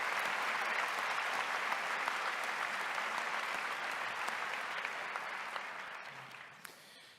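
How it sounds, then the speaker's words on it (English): A commencement audience claps for the faculty in a dense, sustained round of applause that fades slightly toward the end, heard from within the hall. "Let's give them a round of applause too."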